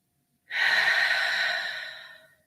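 A single long, steady exhale of breath during a guided breathing exercise, close and airy, swelling quickly and then tapering off slowly over about two seconds, with no talking.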